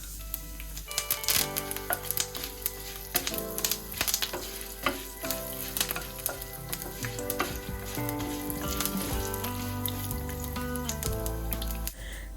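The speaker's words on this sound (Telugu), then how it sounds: "శనగపప్పు, మినప్పప్పు అండ్ కొంచెం ఆవాలు, జీలకర్ర అండ్ కరివేపాకు ఇవన్నీ యాడ్ చేసుకుని మంచిగా తాలింపునైతే ఫ్రై" Chana dal, urad dal, mustard seeds, cumin and curry leaves tempering in hot oil, a continuous close sizzle dotted with sharp popping crackles as the seeds burst, with no talking.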